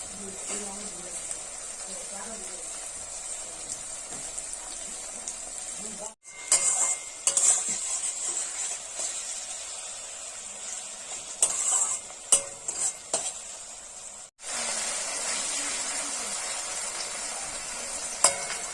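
Tomato and capsicum frying in a pan for low-oil, low-spice chicken kosha, with a steady sizzle and intermittent stirring clinks, broken by two brief silent gaps, and a voice talking over part of it.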